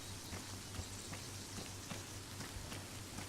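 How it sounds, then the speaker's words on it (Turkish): Rain falling in the video game Arma 3, a steady, even hiss of dense raindrops on surfaces that holds at a constant level throughout, with no voices. "Yağmur da yağmasa iyiydi aslında ama yağmur da yağıyor ya."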